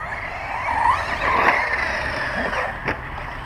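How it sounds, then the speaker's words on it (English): A remote-control racing truck runs at close range, its electric motor whining steadily and rising and falling in pitch as it speeds about, with a short sharp click near the end. "It's not a really bashing truck, it's a racing truck."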